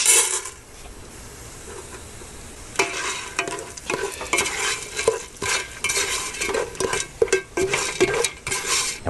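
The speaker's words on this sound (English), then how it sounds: "you're going to want to go ahead and stir that up to make sure it's evenly coated" A spoon or spatula stirs popcorn kernels and sugar around a pot for kettle corn, making continuous scraping and rattling with a gentle sizzle underneath, close and fairly loud, with irregular bursts of stirring after a quieter start.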